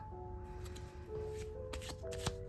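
A deck of English-language cards used for a card reading is shuffled close up, with soft papery riffles and taps over quiet background music.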